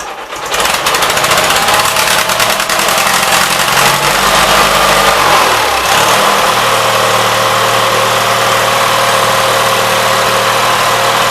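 A 1976 Gravely 816 tractor engine runs loud and close, steady at first, then bogs briefly before settling into a rough, loaded-up drone.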